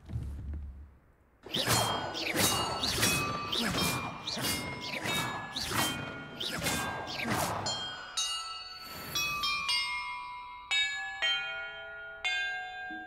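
Bells in the Hogwarts Legacy video game ring out loud and close: a rapid run of struck metallic tones, then slower separate chimes that hang and ring on over several seconds.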